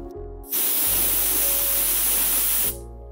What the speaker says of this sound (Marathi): 3 शिट्ट्या झाल्यात